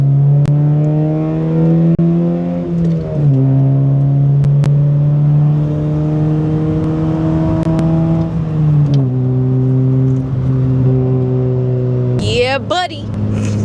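Nissan 300ZX engine with a stick shift revving steadily as it drives, its drone rising and dropping around gear changes, loud and close throughout, with a brief higher whine near the end.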